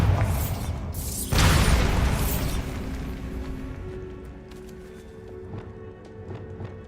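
A Bombarda blasting spell erupts in Hogwarts Legacy, a loud booming burst near the start that rolls into a long rumbling, crackling decay with scattered debris-like clatter trailing off.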